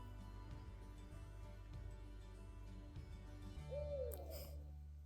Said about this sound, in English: We have a hoot owl near us.